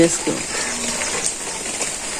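Rain falling on a village, a dense, steady hiss that fills the whole short stretch, with a voice speaking over it close by.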